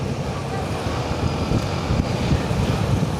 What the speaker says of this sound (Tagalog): Sobrang lakas pa ng hangin.